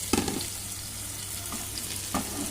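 Onions and cut potatoes fry in a pan and are stirred, a steady close sizzle with a few scraping stir strokes near the start and around two seconds.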